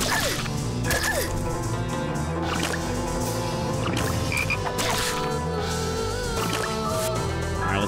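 Frog enemies croak repeatedly during a battle in the PS2 role-playing game Shadow Hearts. The dense, overlapping croaks sit among busy game effects and steady background music, with no talking.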